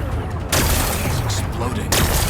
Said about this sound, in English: Gotta blast away some rocks, so I can expose the power cell.